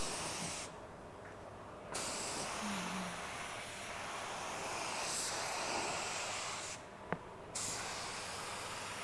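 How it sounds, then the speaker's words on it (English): A low volume, low pressure paint gun lays clear coat on a car from a small compressor, a steady airy hiss of spraying in bursts with brief pauses between passes and a sharp click near the end. "the amount of overspray that this low volume, low pressure paint gun is producing"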